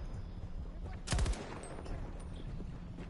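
A short burst of rapid gunfire in a shooter video game, loud and close for about a quarter second, set over a steady low game soundscape with faint fainter shots afterward.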